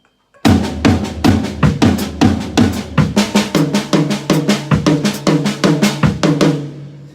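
Close, loud drumming cycles through toms and kick drum in an even, repeating groove, with nobody talking.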